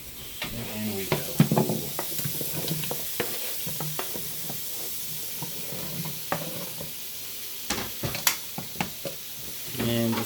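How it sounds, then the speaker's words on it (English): Turnip roots and parsnips stirred in sizzling butter with a wooden spoon, a low frying hiss broken by repeated close scrapes and knocks against the pan in irregular bursts, a voice faintly present at times. "just take the wood and stir and just kind of stir it around"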